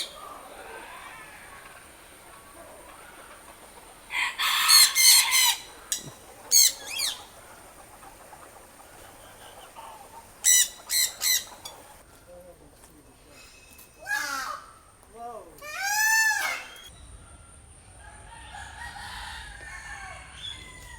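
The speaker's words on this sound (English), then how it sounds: "Oh look what birds we got over here." Assorted birds at a Phuket bird park, including pheasants, give loud bursts of calls and caws between quieter stretches, with sharp repeated squawks and rising whoops over a steady background hiss; a person talks at times.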